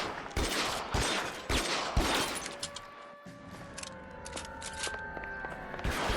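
Gunfire in the video game L.A. Noire, a rifle like an M1 Garand firing several sharp, loud shots in quick succession early on, followed by quieter mechanical clicks and tones.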